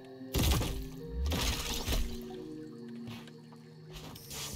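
A splash and crashing impact sound as an enemy is hurled into water in the video game High on Life. Several heavy bursts with shattering and watery sounds play over ambient game music, with no speech.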